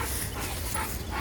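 Crossbred F1 dogs make a brief stretch of soft whimpers and yips over a noisy room background, fairly close and continuous for about a second.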